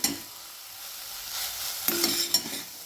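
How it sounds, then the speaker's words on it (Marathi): Kardai greens, cooked fairly dry, are tossed in a pan over a gas flame, making a quiet sizzling hiss broken by a couple of stirring scrapes. "छानपैकी अशी परतून घ्यायची भाजी"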